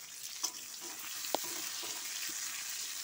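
Chopped onion and tomato frying in a pan for a prawn curry, giving a steady broadband sizzle with a few faint clicks of stirring, heard alone at a moderate level.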